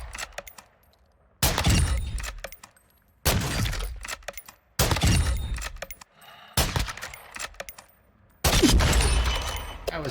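Lockwood sniper rifle shots in a video game ring out one at a time, five or six loud sharp cracks spaced roughly every one to two seconds, each leaving a brief decaying tail before near-silence.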